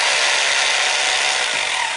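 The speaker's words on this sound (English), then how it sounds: "So you just go ahead and drill through the concrete" Hammer drill boring into concrete for slide anchor bolt holes, a steady, loud, continuous grinding whine that holds evenly for the full two seconds with no voices.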